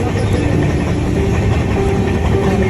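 A passenger train running steadily, giving a loud, continuous rumble and rattle heard from inside the carriage, with no clear talk over it.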